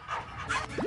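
A cartoon dog in The Playroom VR game makes short yips and whimpering, panting sounds, a few quick close bursts in under a second.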